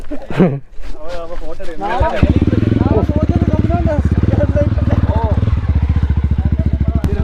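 A modified 220 motorcycle exhaust bursts into a loud, rapid, throbbing idle after a few seconds of voices, the steady pulsing beat running to the end.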